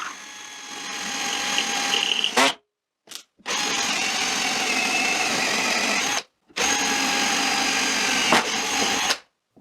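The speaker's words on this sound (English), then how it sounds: "Drill a hole the same diameter as the wooden rods." A power drill boring a hole in wood to fit wooden rods, loud whining bursts in three runs separated by short silent pauses.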